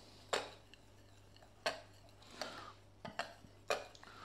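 A spoon knocks and scrapes against a bowl while icing sugar and milk are mixed together, giving sharp, irregular clinks about once a second against a quiet background.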